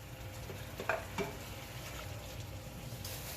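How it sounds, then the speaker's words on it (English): Steady sizzling of shallots frying in a pan, a continuous crackling hiss with occasional stirring scrapes. "So once it starts sizzling like this, that's when you add your 3 pounds of shrimp."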